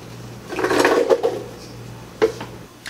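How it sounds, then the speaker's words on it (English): Strawberries and mango tossed into a blender jar give a cluster of soft thuds and hollow clatter, then one more knock a moment later, close and fairly quiet. "We're going to go ahead and get this thrown right into the blender."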